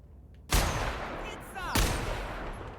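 Two loud gunshots from a weapon in The Outer Worlds, each a sharp blast followed by a ringing decay, about a second apart against low game ambience.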